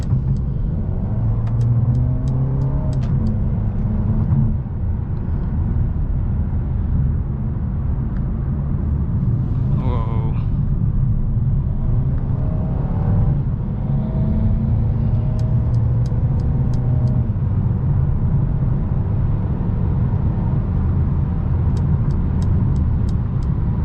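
A 2021 Mercedes-Benz A 220 4Matic sedan accelerates steadily, with a continuous low engine and road rumble heard from inside the cabin, loud and even throughout with no talking.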